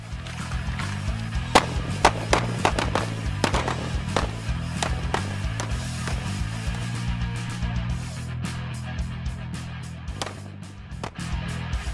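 Gunshots on an indoor shooting range during laser-sight training, a rapid series of sharp, close cracks at an uneven pace over a steady low hum, no talking.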